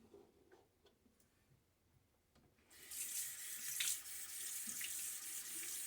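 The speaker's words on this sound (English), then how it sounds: "So such a luxury to have a sink. Be able to rinse my hand off when it gets all soapy." A bathroom sink tap runs while someone rinses a soapy hand during a wet shave, starting as faint drips and small ticks before the water gushes on strongly and keeps splashing steadily.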